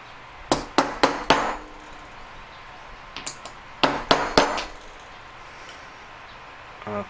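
A nylon-ended hammer gently taps a diamond cluster pendant in two bursts of four quick, crisp, bright knocks, followed by a few softer isolated taps, close and clear with no talk.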